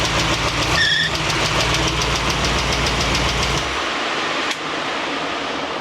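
A 1965 Ford Mustang GT's V8 engine, running with no tailpipes, idles loud and raw with a deep, lumpy rumble and rapid knocking pulse, then abruptly cuts off, leaving quieter background noise.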